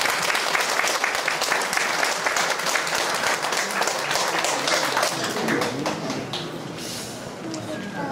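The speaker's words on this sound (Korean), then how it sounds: "신부 아버님을 큰 박수로 모시겠습니다" Wedding guests give the bride's father a steady round of applause, dense clapping that holds for the whole stretch and thins slightly near the end, with some crowd chatter mixed in.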